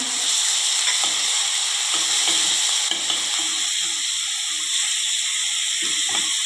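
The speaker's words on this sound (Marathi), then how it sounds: "हिरवी मिरची आणि लसूण चांगलं परतून घ्यायचं आहे" Ground garlic and green chilli fry in a mustard-seed and cumin tempering for dahi kadhi, a loud, dense, continuous sizzle close by with occasional stirring scrapes, no talking.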